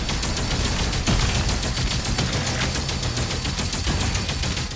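The Cycler weapon firing nonstop in DOOM: The Dark Ages, a loud, dense stream of rapid shots that runs through the whole stretch with no pause.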